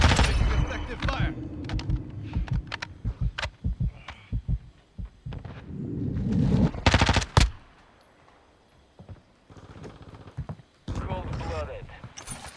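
Rapid bursts of gunfire from the video game Call of Duty: Modern Warfare II, loud sharp cracks coming in clusters with heavy percussive thumps, mixed with game radio chatter and voices talking throughout.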